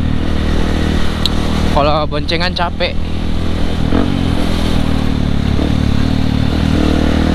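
A motorcycle runs steadily throughout with a low continuous engine drone and wind rush on a night ride, while people talk over it.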